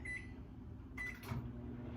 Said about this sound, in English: place it in my microwave, and set it for 1 minute